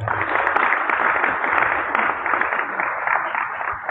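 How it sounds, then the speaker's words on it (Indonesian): A gathering in a community hall (pendopo) during a group dhikr event bursts into applause, dense continuous clapping from many hands at close range, steady for several seconds before tapering slightly. "Tepuk tangan."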